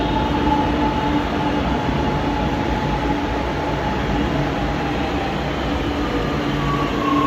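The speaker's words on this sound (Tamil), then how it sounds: "நமக்காகவே இந்த ட்ரெயின் விட்டுருக்காங்க, புல்லட் ட்ரெயின்." A Japanese bullet train rushes past at high speed, a loud, continuous roar of rail and wind noise that holds steady throughout without any break, close by and with no voices.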